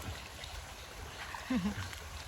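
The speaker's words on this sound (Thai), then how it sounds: "น้ำไหล" Water flows steadily along a rural canal stream in Thailand, a close, continuous rushing hiss with a brief gurgle near the end.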